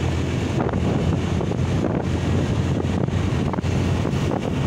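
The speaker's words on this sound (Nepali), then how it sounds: "हावा चाहिँ डह्रो आउँदो रहेछ है" Strong wind in a park in Dharan on a hot day blasts across the microphone as a loud, continuous rumbling roar with gusty swells, alone and without voices.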